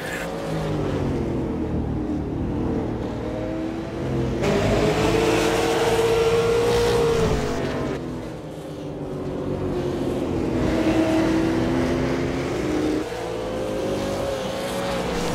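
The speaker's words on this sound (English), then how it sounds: "Just a lot of racing action here at the track for these guys." Stock cars race around a track, engines roaring and swelling as cars pass in waves, with rising and falling pitch and a continuous loud drone from the field.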